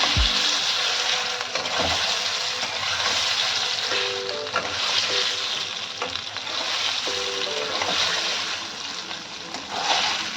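Paneer frying in hot oil in a pan while being stirred, a steady loud sizzle broken by occasional scraping clatters of the spoon.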